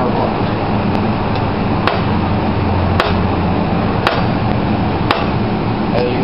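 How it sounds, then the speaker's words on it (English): Sharp metallic ball peen hammer blows ring out about once a second, six in a row, each strike clanging on a heated steel rod on an anvil over a steady background hum. "This was one heat and about maybe 6 hammer blows."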